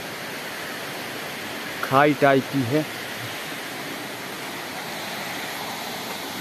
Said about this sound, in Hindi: तो और ऊपर से काफ़ी सुंदर ये झरना